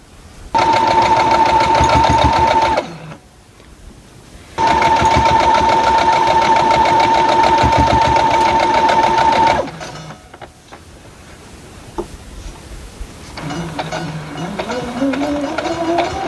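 A sewing machine joins the pieces of a Pressed Flowers quilt block in two long, steady bursts of loud, even whirring, separated by a short pause. A voice talks briefly afterward.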